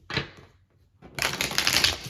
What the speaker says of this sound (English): this deck really wants to be shuffled